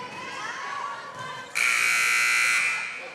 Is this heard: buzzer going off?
yes